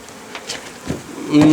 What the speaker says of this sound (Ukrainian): струшуємо бджолу у вулик